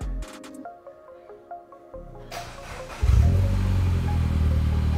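A Mini Cooper S with the N18 engine starting up: a brief chime sequence and electrical clicks, then the starter cranks and the engine catches into a loud, rumbling idle close by.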